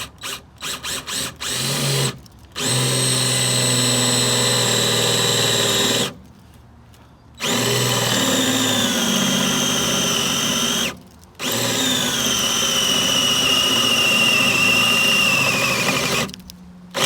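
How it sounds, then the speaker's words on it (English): A power drill bores into the body of a Jeep Rubicon during a sport cage install: a few quick trigger bursts, then three long whining runs with the pitch sliding as the bit works through metal, separated by short pauses, close and loud. "you will see me drilling into my Jeep"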